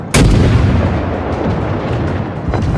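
Heavy naval guns firing in the warship battle game World of Warships, one loud booming salvo opening at close range and leaving a sustained rumbling roar, with a fainter second report near the end.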